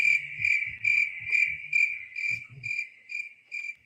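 Crickets chirp in a steady, regular pulse, about two bursts per second, loud and close with no voices, accompanied by faint low thumps underneath.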